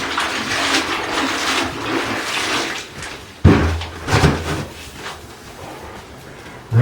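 A grout sponge is rinsed in a bucket of water during shower tiling work, giving sloshing and splashing swirls, a sharp knock midway, then further dripping and swishing, close by with no talking.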